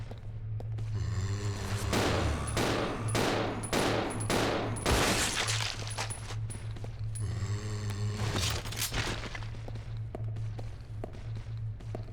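Handgun shots and grenade launcher blasts from the Resident Evil 0 video game fire in repeated bursts over a low droning in-game soundtrack, loud and continuous with footsteps between volleys.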